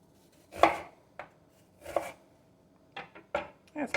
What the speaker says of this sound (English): do we want to cut this onion up?